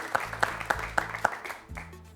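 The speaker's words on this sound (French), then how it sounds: "On peut applaudir Philippe pour son beau parcours avec nous" Studio audience on a French quiz show breaking into applause, a steady patter of clapping with a few sharp louder claps spaced about evenly, fairly close and moderately loud.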